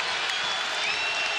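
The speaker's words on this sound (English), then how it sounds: "Crowd once again rising to their feet." Applause and cheering fill a basketball arena as the UNLV crowd rises to its feet, a dense, loud wash of clapping with no pauses.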